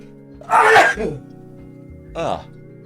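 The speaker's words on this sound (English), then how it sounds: "Hang on, I think I'm gonna sneeze." A loud, close sneeze bursts out, followed a moment later by a shorter second sneeze-like burst, over a steady low hum.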